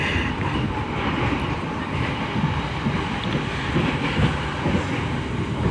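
An Indonesian passenger train rumbles steadily at speed, loud broadband rolling noise with faint rhythmic wheel clatter throughout, no voices.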